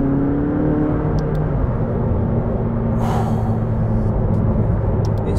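McLaren 600LT engine droning steadily from inside the moving car, a loud continuous rumble with a faint rising note and no gaps.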